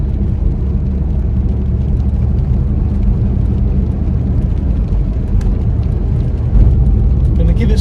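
Peugeot 306 accelerating up a slight incline, a steady low engine drone and road rumble from inside the cabin, holding constant with a slight rise in loudness near the end.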